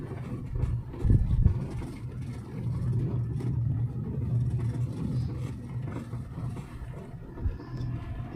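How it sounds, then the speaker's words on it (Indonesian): A pickup truck and a truck loaded with wood rumble past on a mountain road, a low continuous engine drone that swells and fades, with no talk. "yang ketemu sama kita itu kolbak sama truk seperti ini,"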